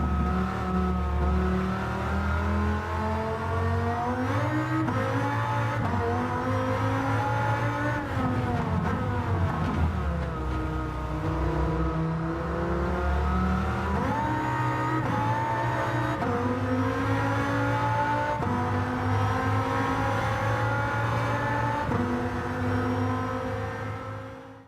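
A Dodge Viper in Gran Turismo 7, its engine droning steadily with rising and falling pitch as it accelerates and shifts through gears, loud and continuous without a break.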